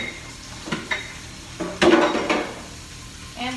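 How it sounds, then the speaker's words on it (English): Dishes being washed quickly in a home kitchen while making Dominican flan, with scattered clinks and clatters of dishware and utensils, a louder burst of clanking in the middle, nearby and without talk. "I'm gonna wash this very fast"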